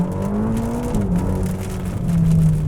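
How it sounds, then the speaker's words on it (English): A 2021 Ferrari Roma engine drones under load through its 8-speed twin clutch gearbox, pitch climbing then dropping at a quick shift and rising again, heard from inside the car on wet monsoon roads. "Feel that 8-speed twin clutch gearbox banging in shift after shift, hard and fast."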